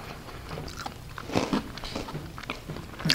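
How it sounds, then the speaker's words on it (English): Someone crunches on Cap'n Crunch cereal, loud close bites and chewing crackles repeating over a few seconds with no speech. "Crunch doesn't add any flavor to it, but it adds a crunch, nice little."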